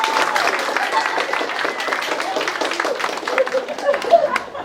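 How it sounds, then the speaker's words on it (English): A small crowd at a town dedication in Huron, Wayne County, gives the county historian a round of applause, scattered clapping mixed with murmured chatter and voices, moderately loud and close. "Let's give her a big round of applause."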